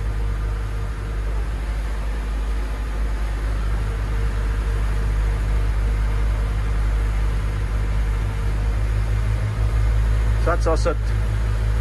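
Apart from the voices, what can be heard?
Rinker 270 boat running on Volvo Penta D4 260HP diesel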